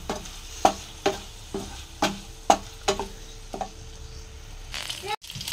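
Food frying in a kadai, with a spatula scraping and tapping the pan in a steady rhythm about twice a second over a faint, continuous sizzle, close by.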